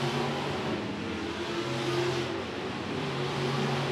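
A sport mod race car at El Paso County Raceway accelerates down the front straight, a distant, sustained engine drone that rises slightly, with no talk.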